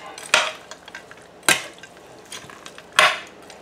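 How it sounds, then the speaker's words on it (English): Food is stirred in a pot with a spoon, three distinct loud scraping strokes about 1.3 seconds apart, with softer clinks and shuffling between them, close and without talk. "Let me mix this up."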